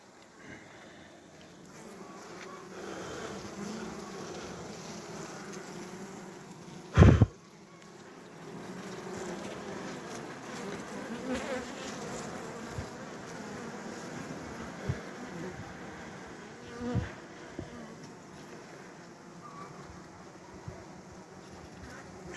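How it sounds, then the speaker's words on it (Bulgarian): Honey bees hum in a low, continuous drone around a jar-style hive, fairly soft and steady. Two sharp knocks cut in clearly partway through. "Пчелите ги обгрижват, хранят ги."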